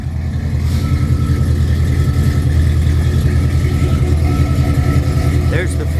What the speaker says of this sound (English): I want to go back here and let you listen to the engine.